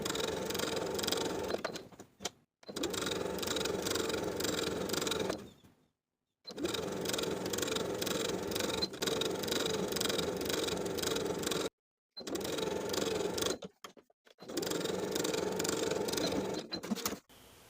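A sewing machine stitches the bottom hem of a button-up shirt, running in several steady whirring bursts separated by brief pauses.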